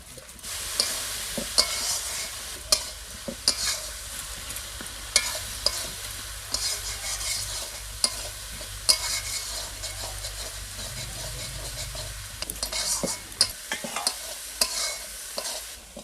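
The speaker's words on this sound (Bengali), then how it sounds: "মশলাটা ভালো করে কষিয়ে নিয়েছি।" Spice masala with chopped tomato and salt fries steadily in a pan while a utensil scrapes and stirs it, producing a continuous close sizzle punctuated by frequent sharp knocks and scraping strokes, with no voices.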